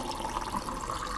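Water runs quietly from a free refill tap at a high street greengrocer's, filling a plastic bottle in a soft, steady trickle for a brief moment.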